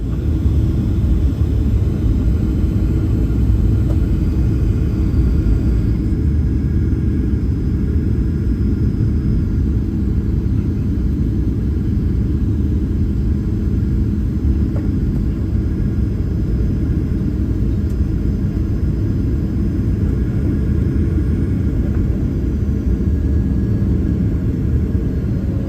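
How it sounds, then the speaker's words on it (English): Two airplanes land side by side at the same moment in San Francisco, heard as a loud, steady low roar of jet engines and rumble that runs unbroken throughout, with no talk. "These planes landing at the exact same time next to each other in San Francisco."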